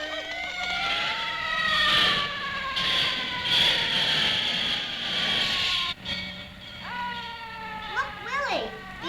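Several fire engine sirens wail and sweep in rising and falling tones on a 1959 children's record, with music playing beneath and a loud siren rising near the end.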